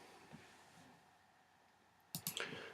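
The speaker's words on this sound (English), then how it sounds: "keep clicking your points on, double clicking to straighten the line" A computer mouse clicks as points are placed with a selection tool while masking a horse image in editing software. A quick cluster of two or three sharp clicks arrives near the end after a quiet stretch.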